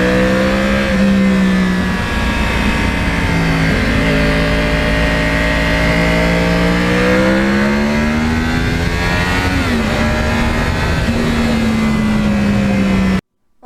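A Yamaha R1 crossplane sport motorcycle engine rumbles loudly and steadily, its pitch rising and falling through several rev changes as the bike pulls and shifts, close and continuous until it cuts off at the very end.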